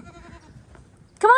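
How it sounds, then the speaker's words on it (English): Goats bleat loudly and close by near the end, a wavering harmonic cry following quieter murmuring and handling sounds outdoors on a warm sunny day. "Come on, goats."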